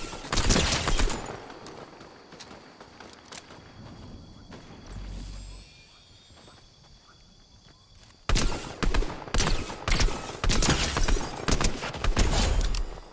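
Rapid gunfire bursts from a first-person shooter game, loud and dense at the start, thinning into scattered shots in the middle, then returning as heavy repeated volleys near the end.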